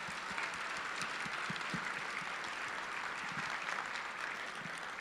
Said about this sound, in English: Will you all please join me in another round of applause for these amazing students?